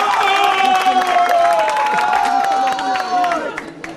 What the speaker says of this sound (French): On va applaudir la remise du trophée de la Coupe du Monde 2014.